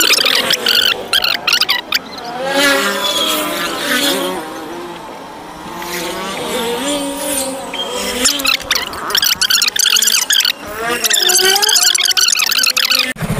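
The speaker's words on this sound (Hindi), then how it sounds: "तो फ्रेंड फाइनली गाड़ी स्टार्ट हो गई है, और बढ़िया स्टार्ट हो रही है" A motorcycle engine, newly repaired after its spark plug kept turning black, starts and runs for several seconds. It idles with a steady hum, then revs up and down in uneven bursts, loud and near.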